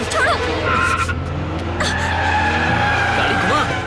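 A car skids and its tires squeal as it is swung around during a tense chase, engine noise and tire screech filling the scene continuously while people shout over it.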